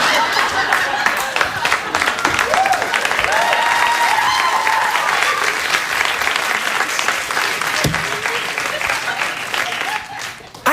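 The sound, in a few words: studio audience applause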